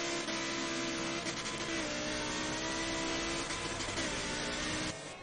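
A GT3 race car engine in a racing video game at Spa drones loud and steady at high revs, then cuts off abruptly near the end.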